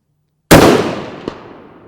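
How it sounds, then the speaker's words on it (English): A single loud suppressed rifle shot cracks out at an outdoor range, followed by a long, rolling decay. Under a second later, a faint, distant ping rings out as the round strikes a small steel target. "Definitely sounds better at range with a suppressed gun when you hit steel."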